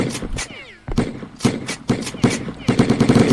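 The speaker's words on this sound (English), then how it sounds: "Seeing they're shooting you now." Enemies fire guns in a sci-fi video game as a rapid series of sharp, punchy shots and bursts, coming close and loud with a few swooping effects between them.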